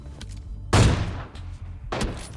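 Two AWM sniper rifle shots from a shooter video game, the first loud and sharp, the second about a second later and a little softer, each booming out over a low game background.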